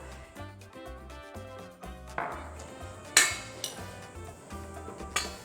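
Lentil salad with basil and crumbled feta tossed in a bowl, giving a run of close clinks and scrapes of a utensil against the dish, with a few sharper knocks, over a steady low musical backing.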